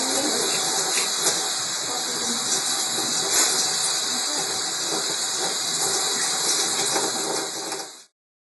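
Steady broadband rush of running tap water as cookie cutters are washed in a sink, continuous and fairly loud for several seconds before cutting off abruptly.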